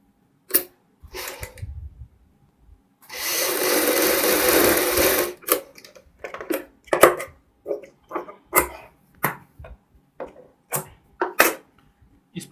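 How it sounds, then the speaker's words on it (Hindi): A sewing machine stitches folded collar fabric with buckram for a Punjabi suit, running in one long steady burst between sharp clicks and short stuttering runs of stitches, with no voices. "इस कपड़े को इस तरीके से फोल्ड करते हुए बुकरम के साथ साथ सिलाई लगाएंगे"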